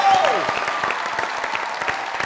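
A studio audience applauds a singer on a musical show, steady, close clapping that follows a short tonal sound at the start.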